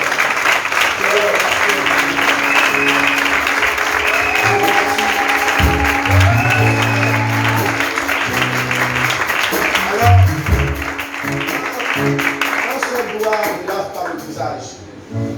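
Church congregation clapping and cheering during a divine healing service, a sustained wash of applause under loud speech from the front, with musical tones and voices ringing through before it thins out near the end.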